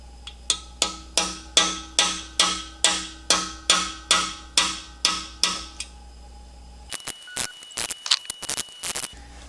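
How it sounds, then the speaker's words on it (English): A socket is used to tap core plugs into a Ford 390 V8 engine block during a rebuild: about a dozen evenly spaced, ringing metal knocks, followed by a quieter burst of irregular clicks and rattles. "So I'm just going to take a socket and drop it in here and then tap these things in place where they go."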